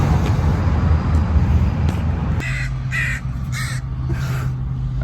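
A crow flying past near Sprout Lake Provincial Park gives a series of four harsh caws over steady low roadway and engine rumble.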